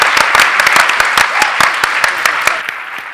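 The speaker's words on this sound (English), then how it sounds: "Give him a round of applause" An audience at a Shark Tank one-day challenge event breaks into loud, steady applause with sharp individual claps cutting through, easing slightly toward the end.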